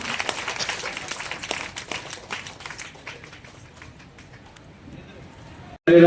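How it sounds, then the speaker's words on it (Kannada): Audience applause at a public programme: a dense burst of many hands clapping that gradually thins and fades over several seconds before a loud cut-off at the end. "ಜೋರಾಗಿ ಚಪ್ಪಾಳೆ ಬರಬೇಕು."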